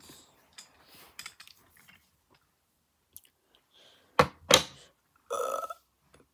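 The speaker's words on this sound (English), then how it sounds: "You're supposed to say excuse me after you burp." Two loud, close burps from a cartoon train character, coming in quick succession after scattered quiet clicks, with a rough breathy sound following them.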